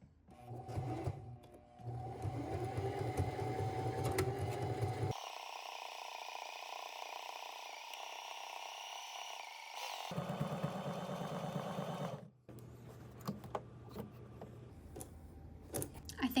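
Sewing machine stitching a pair of pants, a steady loud mechanical whir that runs almost without a break for about twelve seconds, changes pitch midway, then stops, leaving only faint handling clicks.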